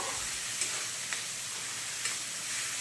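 Crushed ginger-garlic paste frying in a pan, a loud, even hiss of hot oil held steady throughout, with a few faint taps of a spatula.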